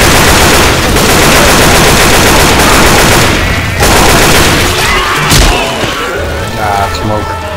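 Loud, dense video game gunfire rattles almost nonstop in rapid automatic bursts with heavy impacts, easing after a sharp crack near the end, while players talk over it.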